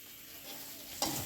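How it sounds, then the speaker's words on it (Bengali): Eggplant slices fry in a pan in a home kitchen, giving a steady soft sizzle with a brief stirring scrape near the end, with no talking. "আর এই যে বেগুন ভাজা হচ্ছে"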